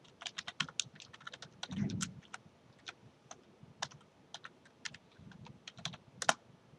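Keys clatter on a computer keyboard as a username and password are entered at a login prompt, in quick irregular bursts of close, crisp clicks with short pauses and one heavier thump.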